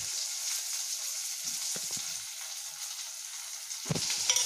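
Chopped eggplant and onions fry in a pan with a steady, close sizzle, a few quiet scrapes of stirring, and a louder burst of crackle near the end.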